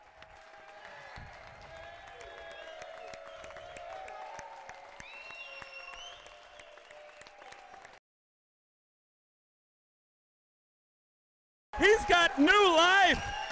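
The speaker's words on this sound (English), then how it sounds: "Listen to the crowd." A tennis crowd cheers and applauds after a thrilling match point, a dense roar of clapping and voices with whistles for several seconds, cutting to silence, then a second loud burst of cheering returns near the end.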